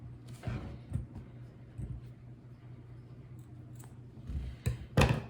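Scissors snipping through a Dollar Tree sock for a craft bunny, a few quiet crisp cuts spaced irregularly, close and faint.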